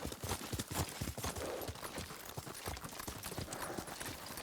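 Horse hooves galloping in the Ghost of Tsushima video game, a rapid, dense clatter of hoofbeats, loud and close, thudding in a quick uneven rhythm without pause.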